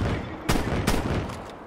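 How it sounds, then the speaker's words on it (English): Two heavy shotgun blasts in a first-person shooter game, spaced about half a second apart, loud and sharp with a booming low end over constant game background noise. "I'm gonna try the shotgun."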